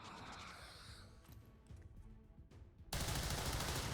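Gunfire in XCOM 2 during a tactical mission: a faint, busy stretch of game sound that gives way to a loud, sustained burst of rapid fire, close and harsh, running to the end.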